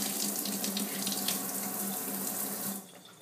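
Tap water runs steadily into a sink, splashing over the bottom portion of an Innokin iClear 30 vape tank as it is rinsed. The flow is close and continuous, then cuts off near the end.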